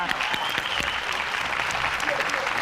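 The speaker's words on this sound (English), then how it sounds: "Round of applause," A studio audience gives steady, loud applause to a debate winner, clapping continuously with some voices audible underneath.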